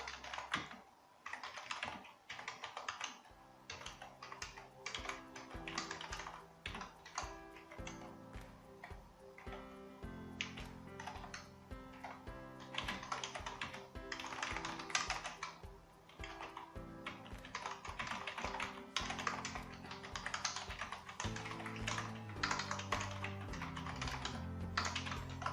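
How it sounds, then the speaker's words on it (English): Continuous typing on a computer keyboard during data entry, a steady rapid patter of keystrokes running throughout over a soft background hum. "Okay, so here I have just typed 3 lines."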